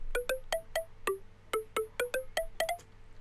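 A dry synth pluck from a Future Bounce sample pack in FL Studio plays a quick melodic run of about a dozen short bright plucked notes, each decaying fast with no reverb, fairly quiet and alone.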